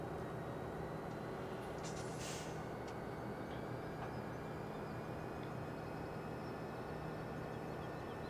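Train rumbling steadily in Farming Simulator 2017, a continuous low rolling drone with faint high tonal whines, the only sound present.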